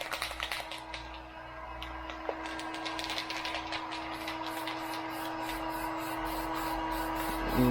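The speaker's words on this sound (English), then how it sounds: "You can see the spray pattern, how it's spraying." Rust-Oleum spray paint can hissing steadily as it coats a boat, a soft continuous spray with faint clicks, close and quiet, alone without talk.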